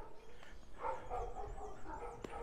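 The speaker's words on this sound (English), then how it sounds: "I've triggered all the dogs." Several neighborhood dogs bark in a residential area of Colonia Universidad in León, Nicaragua, with scattered repeated barks and yips at a distance, faint and intermittent against quiet outdoor ambience.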